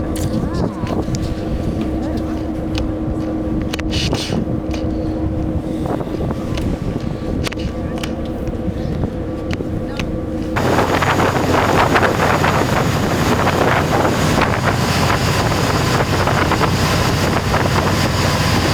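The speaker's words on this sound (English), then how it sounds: "I'm standing beside the engine room vent because it's freezing." Constant loud rushing wind and engine drone beside a cruise ship's engine room vent on Doubtful Sound, New Zealand, which suddenly grows into a harsher, brighter roar of blowing air partway through.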